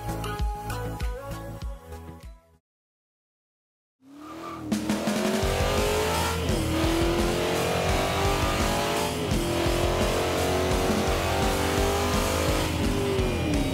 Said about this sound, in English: the gigantic quad exhaust pipes, which provide one of the best noises of the past few years